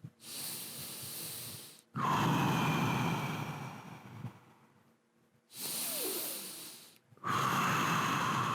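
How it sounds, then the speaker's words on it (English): Slow, deep breaths during an ankle-weights mat exercise class, two long inhale-exhale cycles heard close and clear, each a steady airy rush with brief pauses between, no talking. "So take a second and breathe."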